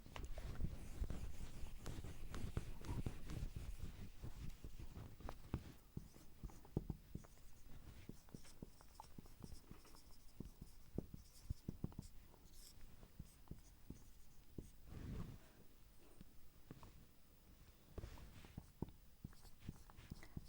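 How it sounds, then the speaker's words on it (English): Chalk or marker scratching out strokes on a classroom board, quiet and close, with irregular bursts of short taps and scrapes separated by pauses. "there are certain properties that I will write on the board now"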